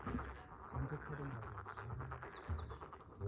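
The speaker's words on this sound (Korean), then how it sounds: "내가 듣기에도 개구리 소리인데" Frogs croak outdoors near Mulyeongari on Jeju Island, a dense low chorus of overlapping croaks pulsing continuously at moderate distance, with faint bird chirps above.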